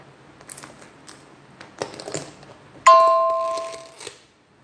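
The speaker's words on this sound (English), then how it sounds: "you're going to hear texts and stuff because I forgot to shut the volume off" Phone text message notifications chime during a food livestream, a few soft clicks and taps, then one bright ringing tone that decays over about a second before silence.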